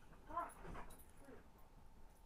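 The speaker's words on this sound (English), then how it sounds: "Hey, dog, settle down." A dog gives a faint, brief whimper, with a short whine and some soft breathy sounds in a quiet indoor room. Nobody speaks.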